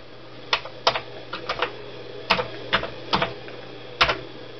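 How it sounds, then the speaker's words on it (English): Someone types on a computer keyboard, a sparse run of about a dozen sharp, close keystrokes in small irregular clusters with gaps between them, alone with no talking. "see if I can type it in right the first time"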